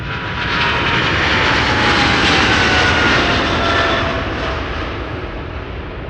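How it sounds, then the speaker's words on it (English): China Southern Cargo jet departing Amsterdam Schiphol for Guangzhou, a loud, close roar of engines swelling over the first seconds, holding strong, then easing off as it recedes, with no talking. "China Southern Cargo, flight 2578, going to Guangzhou in China"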